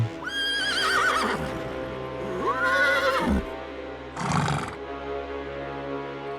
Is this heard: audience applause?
no